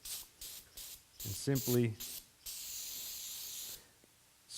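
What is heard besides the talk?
brake cleaner spray on motorbike brake reservoir cap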